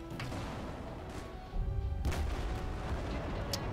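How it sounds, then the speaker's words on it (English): An explosion in the video game Battlefield 4 bursts out midway as a deep boom with following crackle and debris, over continuous in-game noise. "That was a big explosion."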